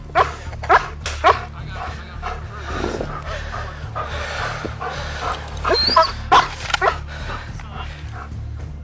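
A police dog barks repeatedly at an escaping suspect in the woods, sharp loud barks and yips in irregular bursts over a steady low engine hum, with some whimpering between.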